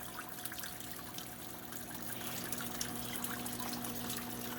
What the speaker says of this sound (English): You can see little splashes of water falling back there.